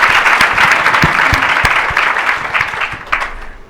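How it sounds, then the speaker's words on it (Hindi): A crowd of listeners at a spiritual talk applauds together, a dense run of hand claps that stays strong, then thins slightly before a brief renewed burst. "ताली तो खुली दिल से बजाओ।"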